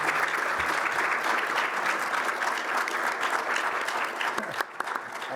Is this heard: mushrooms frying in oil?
no